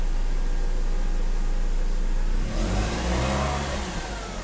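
A stock BMW idling roughly on a cold start with one resonator removed, its exhaust loud and steady, then a brief rev at the midpoint that settles back into a lumpy, noisy idle, close by with no talking.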